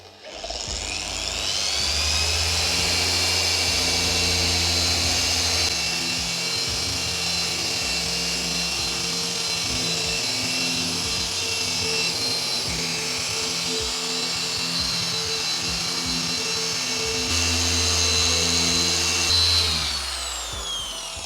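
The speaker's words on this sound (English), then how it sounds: "turn up the speed of your polisher" A car paint polisher runs at higher speed on a hood, giving a sustained high-pitched motor whine with a low hum beneath, loud and steady for about twenty seconds before easing off near the end.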